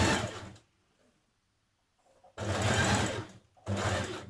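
A sewing machine stitches a small rolled hem on the bottom of a Simplicity 2184 skirt in two loud, close bursts of rapid whirring, split by a quiet pause of about two seconds.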